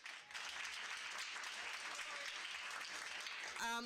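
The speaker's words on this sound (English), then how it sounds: "let's give a round of applause to Langston Hughes for hosting us tonight" A crowd at a Park Heights community gathering claps and cheers steadily for a few seconds, a dense wash of applause that ends as a voice begins.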